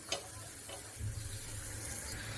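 Ingredients dry-roasting and being stirred in a pan, a soft steady sizzle with brief scraping stirs near the start and a faint continuous rustle throughout, quiet and close with no voices.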